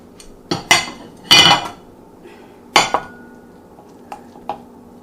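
Plate and metal utensils handled while serving creamy grits: several sharp clinks and clatters of cutlery against a dish in scattered bursts, close and fairly quiet, with no speech.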